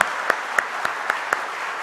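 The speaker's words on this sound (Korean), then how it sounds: "우리 박수 한번 보냅시다." A church congregation claps in unison during Sunday worship, about six sharp, evenly spaced claps in a steady rhythm over a quiet room.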